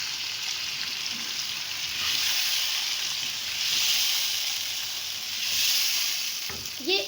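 Chicken and its mixed spices dropped into a karahi of browned paste, crackling and sizzling steadily with close, bright hiss that swells and eases over several seconds.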